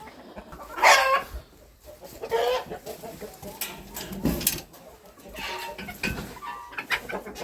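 Bantam chickens cluck and squawk inside a coop in scattered bursts, some calls close and others softer, over a low background rustle.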